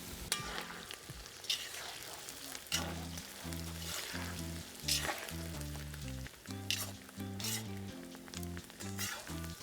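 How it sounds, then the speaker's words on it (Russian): Potatoes frying in a kazan beside a tandoor while being stirred, soft sizzling under repeated scraping and clattering strokes, with a low tonal hum and no talk. "И самое время помешать картофель."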